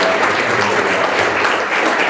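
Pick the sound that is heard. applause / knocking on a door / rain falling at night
applause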